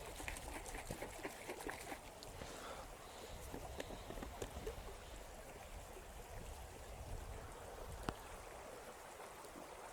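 Water sloshes and patters inside a plastic MRE drink pouch as it is gently shaken, a soft irregular liquid rustle with a few small knocks, faint and close.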